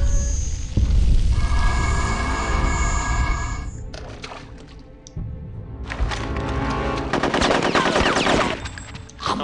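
Enemy gunfire in the video game Conker's Bad Fur Day, loud bursts of rapid machine-gun fire and individual cracking shots, broken by a short lull before another sustained volley.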